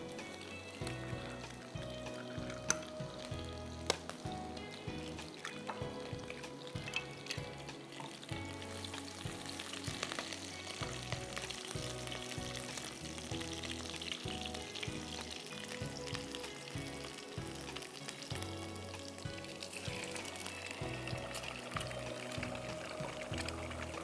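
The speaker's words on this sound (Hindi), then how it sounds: "जैसे ही गार्लिक हल्का सा ब्राउन होने लगेगा, हम इसमें डालेंगे अंडे।" Beaten eggs are poured into a pan of oil with lightly browning garlic, followed by a steady, dense frying sizzle that continues throughout at close range, with background music underneath.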